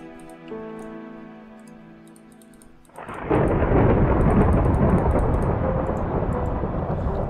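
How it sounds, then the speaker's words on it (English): A thunderstorm in Minecraft rolls in. A quieter tonal game ambience gives way midway to a loud, dense crash of thunder, followed by heavy, steady rain hiss that continues to the end. "Sadly, it's raining and it's dark"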